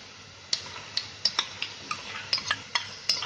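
Onion and coconut paste stirred into hot oil in a frying pan, heard as a string of light, sharp scrapes and taps of a spoon against the pan, irregularly spaced, close, with a faint sizzle underneath.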